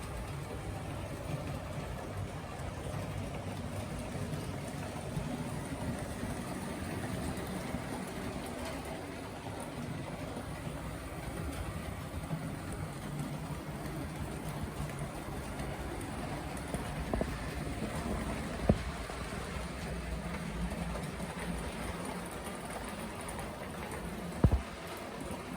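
A vintage two-motored Kleinbahn model train runs continuously with a low, steady motor hum and rolling rumble, fairly quiet throughout, with a few small clicks near the end.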